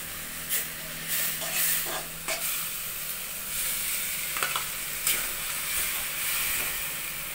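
Fenugreek leaves and potatoes frying together in a pan give a steady sizzling hiss, with a few brief scraping stirs near the start and a couple more midway.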